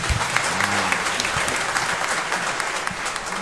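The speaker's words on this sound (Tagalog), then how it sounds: "Siyempre, palakpakan po natin ang Diyos" A church congregation applauds during a feast-day Mass for Saint Anthony of Padua, a brief burst of dense, steady clapping from many hands filling the room, with faint voices underneath.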